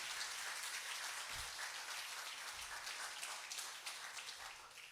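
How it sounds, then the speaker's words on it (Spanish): A church congregation applauds in a steady, even wash of many hands clapping, heard from a distance at low volume and sustained throughout without voices. "Le puede dar un fuerte aplauso al Señor"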